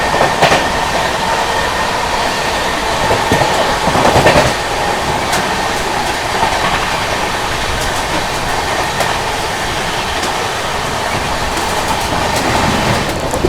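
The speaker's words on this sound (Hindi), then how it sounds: "ओवरटेक कर रहे हैं बीकानेर गुवाहाटी एक्सप्रेस बढ़िया रफ्तार में" The Bikaner Guwahati Express overtakes at speed near Etawah Junction, heard from a passenger train: a loud, continuous rumble of wheels with clickety-clack beats and passing rushes, no voices.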